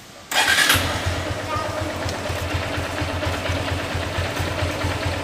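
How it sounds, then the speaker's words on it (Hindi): A 2017 Honda CB Hornet 160R motorcycle, running after an engine flush with 15W-50 synthetic oil, starts with a sudden catch after a brief quiet, then settles into a steady, rhythmically thumping idle close by. "मैं गाड़ी स्टार्ट कर रहा हूँ।"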